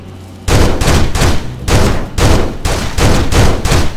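Gunfire in the PS2 shooter Urban Chaos: Riot Response, with loud, rapid bursts of shots in several rhythmic volleys following a brief quiet start, no voices.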